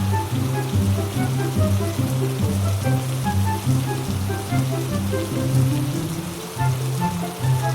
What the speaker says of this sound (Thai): วันนี้ฝนตกแต่เช้าเลยแฮะ